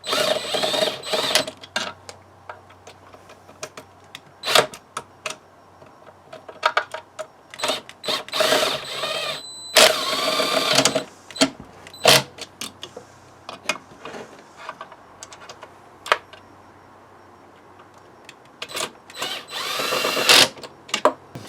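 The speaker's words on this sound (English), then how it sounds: "Right, screws are in position, let's tighten it up." A power driver tightening screws into the casing of an oscillating sander during repair, several short whirring bursts separated by pauses and small clicks, close and fairly loud.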